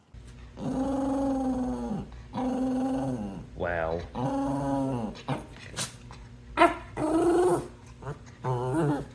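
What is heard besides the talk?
dog growling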